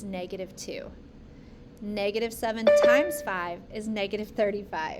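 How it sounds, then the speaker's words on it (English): Doorbell chiming in a home, a short clear ding-dong tone sounding under a voice that keeps talking through it. "Sorry about the little doorbell thing."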